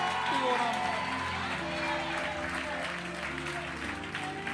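Audience clapping at a church gathering, a steady wash of applause with voices and music tones layered through it, fairly loud and continuous throughout.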